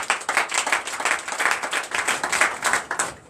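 A church congregation at a Sunday worship service in Comè, Benin, claps in acclaim for Jesus, with rhythmic, pulsing applause from many hands filling the room throughout.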